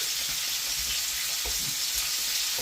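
Pork sears in a hot pan for a pork and apple cider casserole, giving a steady, even sizzle and hiss with faint crackles and no voices.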